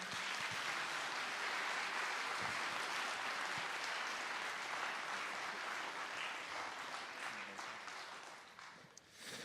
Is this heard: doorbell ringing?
no